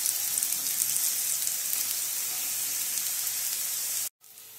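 Slices of suran (elephant foot yam) shallow frying in oil, a continuous bright crackling sizzle held steady close up, then cut off abruptly near the end with a brief quieter tail.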